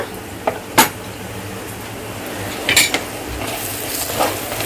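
Pieces of fish coated with chilli powder are stirred in a bowl, giving a soft background hiss punctuated by a few sharp utensil clinks and scrapes.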